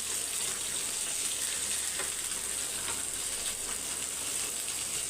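Sankara fish fry in hot oil in a pan, village-style Chennai cooking, giving a steady loud hiss and crackle that runs unbroken with no talk.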